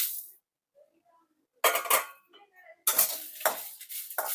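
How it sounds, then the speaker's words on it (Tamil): Chana dal being dry roasted in a pan, heard as two bursts of scraping, rattling stirring with lentils clinking against the metal, separated by a near-silent pause with a few faint clicks. "இப்போ வந்து கடலைப்பருப்பு வறுக்க போகிறோம்"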